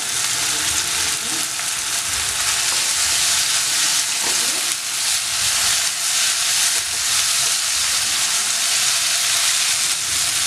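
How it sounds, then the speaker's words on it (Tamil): Carrots and capsicum sauté in a hot pan for a chili bread dish, giving a steady, loud sizzling hiss with occasional stirring scrapes throughout, no voices. "இதெல்லாத்தையும் அதெல்லாம் நல்லா வதக்கிக்கோங்க"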